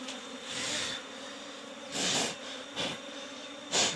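Wild honey bees buzzing around a large honeycomb, heard close as repeated swells of droning buzz as individual bees fly past the microphone, with quieter humming in between.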